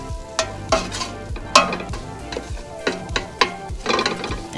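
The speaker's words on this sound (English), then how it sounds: "And let that saute down with the onions and the garlic." Chopped celery, onions and garlic sizzle while sautéing in a soup pot, and a utensil scrapes through them in several distinct stirring sweeps over a steady frying hiss, with no voices.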